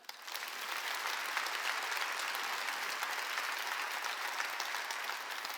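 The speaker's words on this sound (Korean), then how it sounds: "박수 좀 쳐줘요." A church congregation at a Sunday worship service breaks into applause, a dense, even wash of many hands clapping that rises within the first second and holds steadily, with no talk over it.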